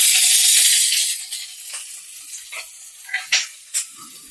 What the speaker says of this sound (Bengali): এই পেঁয়াজটা আমি খুব হালকা করে ভাজবো